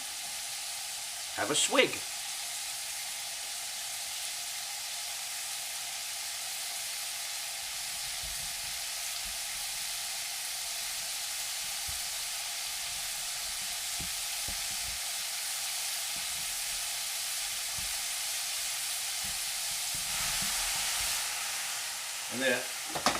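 Mince browning in a frying pan makes a steady, even sizzle that runs the whole time at moderate loudness, with brief stirring or clatter near the start and end and a short spoken remark.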